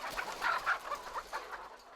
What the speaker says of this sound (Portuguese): só nessa granja, são 30 mil galinhas produzindo.